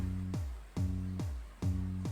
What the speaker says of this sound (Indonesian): Ini suara bass dengan kick aja nih.